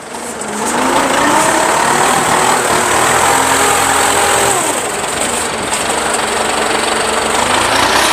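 A 95 horsepower tractor engine runs close and loud, a steady diesel drone with knocking and a faint tonal whine shifting slightly in pitch, with no talk over it.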